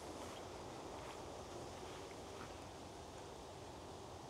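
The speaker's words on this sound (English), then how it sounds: "The wind is picked up. You can probably hear it through the recording." Steady wind blowing outdoors beside an old tree, a continuous broadband rush with soft rustling and no voices.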